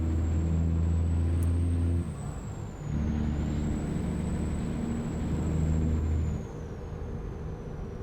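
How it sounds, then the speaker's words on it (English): Heavy truck engine labouring under load in American Truck Simulator, a steady low drone with loud deep harmonics that dip briefly and return, plus a faint high whine, with no talking. "You can hear the truck working hard."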